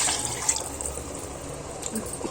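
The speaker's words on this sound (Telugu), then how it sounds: "1 గ్లాసు బియ్యానికి 2 గ్లాస్ వాటర్ పోసుకోవాలండి" Water pours steadily into a pot of rice for bagara rice, two glasses to one of grain, a soft continuous splashing rush at close range with no voices.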